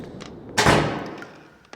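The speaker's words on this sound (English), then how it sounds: "I was closing the door." A door in an audio play sound effect closes with a single solid thud that rings out and decays over about a second, close and fairly loud.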